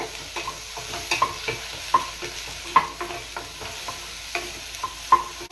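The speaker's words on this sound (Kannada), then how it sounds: "ನೋಡಿ, ಈ ರೀತಿ ಫ್ರೈ ಮಾಡ್ಕೊಬೇಕು ಚೆನ್ನಾಗಿ, 10 ಮಿನಿಟ್ಸ್ ಅಷ್ಟೇ" Okra for sambar fries in a pan under a soft, continuous sizzle, punctuated by repeated sharp scrapes and clinks of a spatula stirring at irregular intervals, close by and moderately loud.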